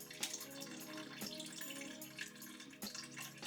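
Tap water running into a pot up to the two-cup fill line, a steady close hiss with a few soft clinks and splashes, heard alone without speech.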